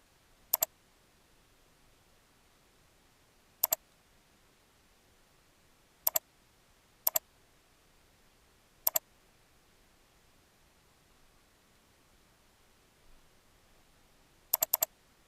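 Computer keyboard keys pressed as a few isolated, crisp clicks, spaced irregularly with long quiet gaps between them, some coming as quick double taps, close by in a quiet room.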